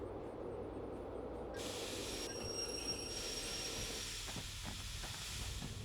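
Locomotive rolling in the railway simulation game Derail Valley, a steady loud rumble and hiss of wheels on track, with rhythmic clatter and metallic squeal toward the end.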